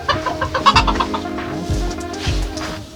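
A curly-feathered hen clucks close and loud in a series of quick, rhythmic clucks, the calls carrying clearly with nothing else over them.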